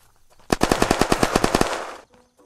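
Automatic gunfire in the survival game Unturned rattles out as a rapid burst of about a dozen sharp, evenly spaced shots lasting roughly a second, loud and close with no speech over it.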